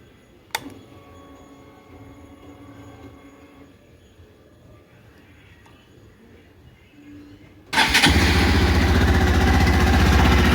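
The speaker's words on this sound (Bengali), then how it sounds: "এই হচ্ছে গাড়িটার ইঞ্জিন সাউন্ড।" A fuel-injected Hero Xtreme 160R motorcycle engine bursts into a loud, close, steady roar during the last three seconds, after a long stretch of quiet background.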